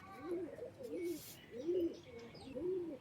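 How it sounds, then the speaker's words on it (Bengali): Male pigeons coo in repeated soft, rolling calls, about four low throaty phrases close by, with faint chirps in the background. "এই যে এটাও কিন্তু নরপায়রা"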